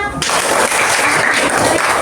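Applause from pupils in an Indonesian school classroom, a dense, steady patter of clapping lasting about two seconds, loud and close, with a brief voice at the very start.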